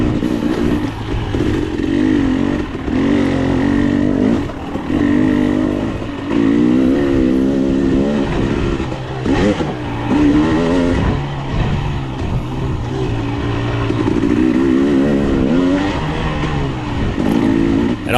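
A 2022 KTM 300 XC-W two-stroke dirt bike races in a hare scramble, its engine loud and close throughout, revving and dropping through gear changes with steady roaring pulses and no talk.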